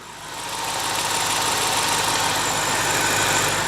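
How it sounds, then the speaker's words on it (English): A BMW 650i V8 engine idles just after being started following an oil service, a steady, even mechanical hum that swells in the first half second and then holds constant, close and fairly loud with no voices. "Now I just fired the engine up. Sounds absolutely sweet still."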